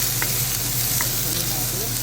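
Potatoes frying in a pan with onions, a dense continuous sizzle close up with a low steady hum beneath and a couple of faint clinks.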